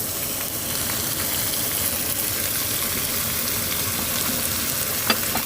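Eggplant fries with onion in a pan, giving a steady, even sizzle and crackle throughout, with a faint clink near the end.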